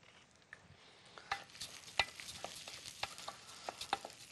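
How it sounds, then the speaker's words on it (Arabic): White rice stirred in hot fat in a cooking pot, giving a soft continuous sizzle broken by scraping and clinking strokes of the spoon about every half second, close and fairly quiet. "ونقلب الرز كويس لحد ما يسخن"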